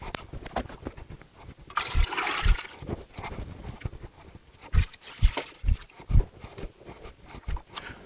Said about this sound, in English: Now I have to put enough water in to cover them.